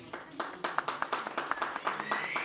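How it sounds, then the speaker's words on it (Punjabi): A small audience at an office New Year and birthday party claps in a quick, uneven rhythm of sharp hand smacks, fairly close, with faint voices mixed in beneath. "ਜ਼ਬਰਦਸਤ ਤਾਲੀਆਂ ਹੋਣੀ ਚਾਹੀਦੀਆਂ।"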